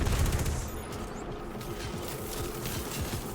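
Enemy gunfire in the Destiny 2 lost sector Bay of Drowned Wishes, a steady rattling stream of rapid automatic shots with mechanical clatter, dense and continuous throughout.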